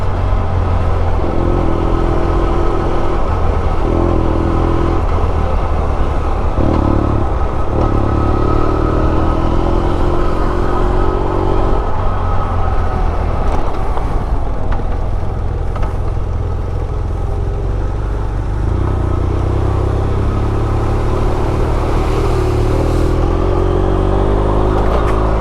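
A motorcycle rides along a road near Colonia Tovar, Venezuela, its engine droning loud and steady throughout with rising and falling pitch as it accelerates, mixed with strong wind rush and no talking.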